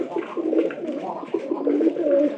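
Pigeons coo continuously in a loft, a steady layered chorus of low throaty rolling calls, close and moderately loud with no talk over it.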